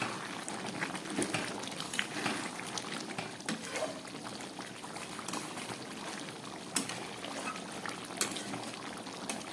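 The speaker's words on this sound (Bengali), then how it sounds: "ঝোলটা একদম ফুটে উঠেছে।" Chicken curry gravy with potatoes boiling in a pot, a steady close bubbling and popping simmer with occasional sharper sputters throughout.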